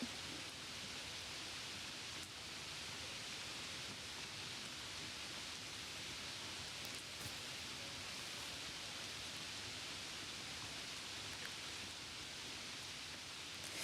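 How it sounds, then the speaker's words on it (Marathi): Heavy monsoon rain pours down in Vasai during a red alert, a steady, dense hiss that stays loud and unbroken throughout with no voices. "तर वसईमध्ये मुसळधार पाऊस पडतोय।"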